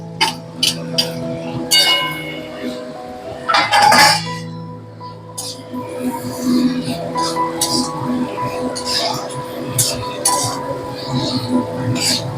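Eggplant pieces going into a pan of dried fish and being stirred, with a few loud metallic clanks and clinks early on and around the middle, then softer scraping and tapping of the spoon against the pan.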